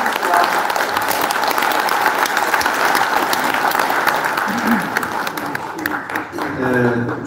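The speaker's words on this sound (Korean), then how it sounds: "여러분 다시 한번 큰 박수를 부탁드리겠습니다" An audience at the inauguration ceremony of the Korea Senior Citizens Association's new chairman applauds with loud, dense, sustained clapping that fills the hall and begins to thin out near the end.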